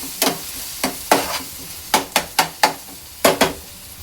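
Onion cooking in a pan, heard as a series of about a dozen sharp scraping stirs at an irregular rhythm, each a crisp brushing stroke over a faint background hiss, close up and with no talking.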